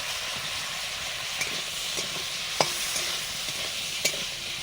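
Home-grown bitter gourd frying in a pan, a steady close sizzle with occasional stirring clicks and scrapes.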